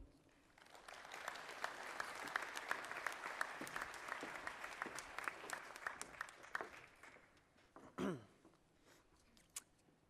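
Audience at a college presidential investiture ceremony applauding to welcome a student trustee, a dense burst of clapping that gradually thins and fades, followed by a brief low sound and a few scattered claps.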